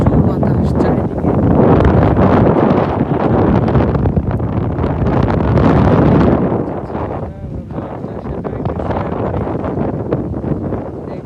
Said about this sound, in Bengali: মাঠে প্রচুর বাতাস চারিদিকে।